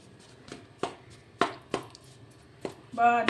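A spatula tapping down on besan flour roasting in a pan for besan ladoo, a series of sharp, separate knocks spaced roughly half a second apart, close and clear, with a voice starting at the end.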